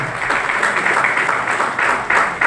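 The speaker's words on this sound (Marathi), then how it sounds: "टाळ्या वाजवून अभिनंदन करूया।" Applause from a gathered crowd at a police ceremony returning stolen property to owners, a short, loud, continuous wash of clapping with a few louder swells and no talk.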